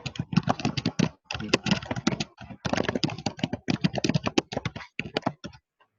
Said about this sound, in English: we're getting a bit of typing coming through there